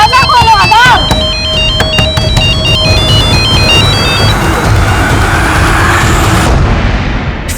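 A mobile phone ringtone plays as a repeating electronic melody over loud, dense background noise during a tense Mumbai crime drama scene, fading out after several seconds.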